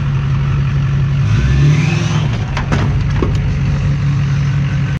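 A wrecked older Duramax diesel pickup with a broken axle revs hard while driving, its loud, steady low engine drone swelling and dipping throughout with no voices.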